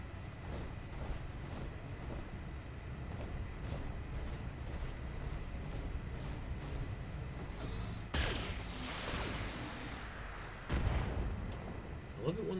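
Artillery and cannon fire from mechs in the BattleTech video game, quiet continuous rumbling battle noise punctuated by two sharp loud blasts near the end, with a voice talking over it.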